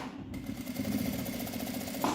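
A sewing machine stitches the pocket of a compact wallet, a quick steady rapid chatter of needle strokes running for about two seconds, close and fairly quiet.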